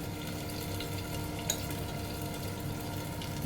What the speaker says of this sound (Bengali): গ্যাসটা মিডিয়ামে রাখলাম, ততক্ষণ আলুটা ভাজা হোক